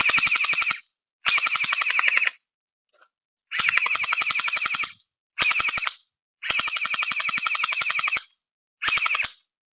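A custom G17 gel ball blaster firing in full-auto bursts: six rapid strings of sharp, buzzing shots of varying length separated by short pauses, close and clear with no talking.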